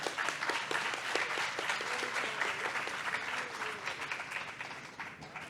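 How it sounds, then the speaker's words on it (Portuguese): Applause from a book fair audience in São Paulo, steady and dense for several seconds with a few voices faintly mixed in. "Palmas."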